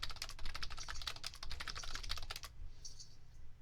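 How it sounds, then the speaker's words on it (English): Rapid keystrokes clatter on a computer keyboard while The Sims 4 is being played, a fast, even run of crisp clicks for about two and a half seconds before stopping abruptly, leaving only faint background hum. "I was typing so fast and then I thought about it and slowed down."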